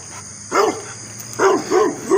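A dog barks outdoors, three or four short, fairly loud barks in quick bursts against a steady background hum.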